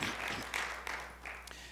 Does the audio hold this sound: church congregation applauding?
yes